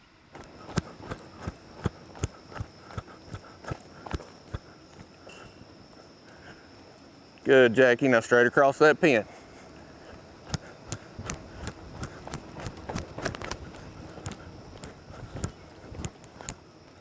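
Cutting horse working a cow in a pen, with soft irregular hoof thuds and scuffs scattered throughout, a spoken instruction briefly over them partway through, under faint constant insect buzz.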